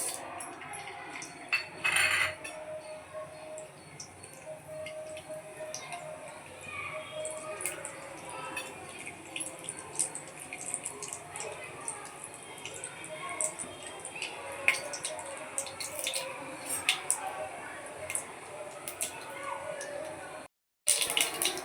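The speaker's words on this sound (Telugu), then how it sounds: "ఆవాలు తిప్పుతున్నాయి" Mustard seeds splutter in hot oil in a pan, a scatter of small sharp pops and crackles with occasional utensil clinks, while a person talks over it.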